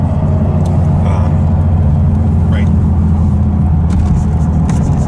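A Lotus Esprit V8 sports car engine drones steadily from inside the cabin while driving, a close, constant low rumble with a brief word spoken over it.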